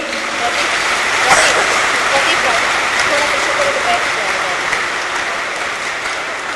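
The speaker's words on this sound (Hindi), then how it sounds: "जोर से ताली बजाएंगे" A Hindi spiritual gathering applauds after elder women present a bouquet, a continuous hiss of many clapping hands filling the room with little change in level throughout.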